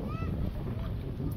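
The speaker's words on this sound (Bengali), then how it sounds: "বাবারে বাতাস" Strong wind buffets the microphone on a river boat in a rural village setting, giving a close, continuous low rumble, with a voice partly heard under it.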